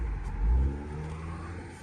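A nearby 2016 Scion tC's engine revs up hard, its low growl swelling and then settling into a steady hum.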